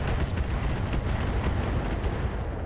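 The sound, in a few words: improved MRM missiles firing in RogueTech video game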